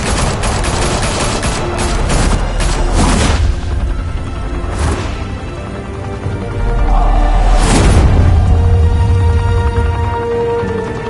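Gunfire in a Batman video game: sustained bursts of shots and loud booming blasts, with heavy impacts around three, five and eight seconds, layered over a dense game soundscape.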